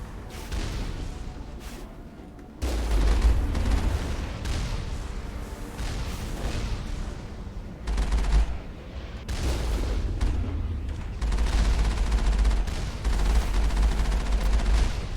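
Heavy turrets fire in the Mass Effect video game: repeated loud booming volleys with deep low-end thumps, arriving in bursts separated by brief lulls over a dense, continuous battle din.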